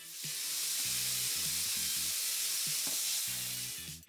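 Steak fajita strips sizzle steadily in a hot pan, a loud continuous frying hiss filling the whole stretch with occasional stirring clatter, no voices.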